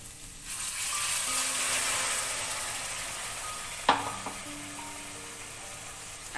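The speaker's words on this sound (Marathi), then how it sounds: "आता मी एक कप साधारण यात पाणी घालते." About a cup of water goes into a hot pan of ground masala, raising a broad, hissing sizzle that slowly fades. A single metallic clank and some stirring follow.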